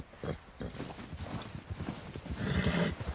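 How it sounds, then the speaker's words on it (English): A horse in Red Dead Redemption 2 lets out a loud whinny near the end, over a close, rhythmic clip-clop of hooves across the whole stretch. "Who's a good horse?"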